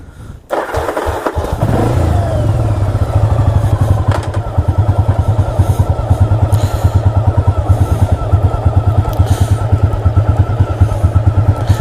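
A 1985 Yamaha Virago motorcycle rumbles close and loud on a ride in East Hampton, NY, its engine firing in a rapid, steady pulsing beat after a sharp start.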